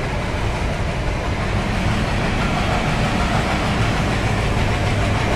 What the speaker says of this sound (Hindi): ये जो एल्को लोकोमोटिव का चगिंग साउंड आ रहा है